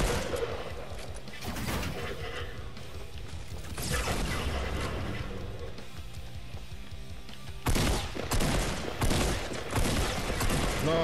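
Gunfire and rocket explosions from the video game Fortnite, a dense, continuous stretch of shots and blasts with sharp bursts toward the end, loud throughout with no talk over it.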